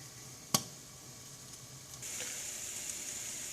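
Poblano peppers roasting give soft, steady sizzling with a sharp pop near the start and a brighter hiss that swells partway through, fairly quiet and with no talking.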